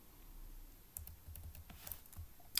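Fingers type code on a computer keyboard in short, uneven bursts of close, quiet key clicks, with a sharper tap near the end and no voices over it.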